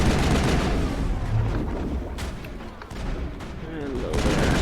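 Gunfire in the Mass Effect video game rattles in dense bursts of shots and blasts, loud and close, under a speaking voice.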